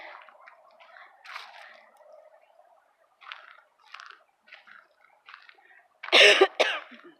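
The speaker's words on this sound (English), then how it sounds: "I still have a cough" A couple of sharp, harsh coughs close to the mic near the end, after a stretch of quiet rustling and soft mouth sounds.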